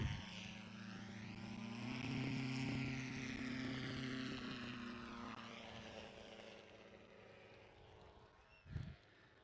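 A Valdez Special 617 Chinook STOL aircraft makes a short-takeoff run at a fly-in event, its propeller engine droning and shifting pitch as it passes at a distance, fairly faint, with a brief thump near the end.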